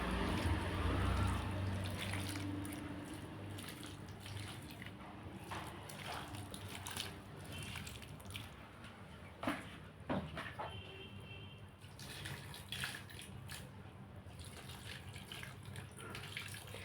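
Water poured over newly potted Inca marigold plants, a steady wash of running water loudest at the start and then continuing more softly, with a few brief knocks and splashes along the way.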